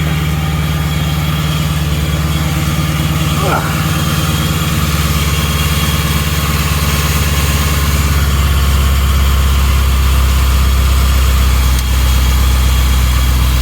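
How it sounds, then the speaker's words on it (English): A running engine idles steadily and close, a constant low rumbling drone with little change in pitch over the whole stretch. "as soon as I'd fire it up, that's when she'd start leaking."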